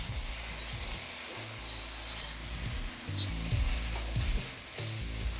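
Small pieces of chicken and vegetables fry for chowmein gravy in a pan, sizzling steadily while a utensil stirs and scrapes through them, with a few louder scrapes near the middle and no talk.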